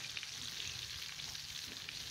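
Groundhog meat frying in a pan outdoors, a steady dense sizzle and crackle holding even throughout, close and fairly loud with no talk.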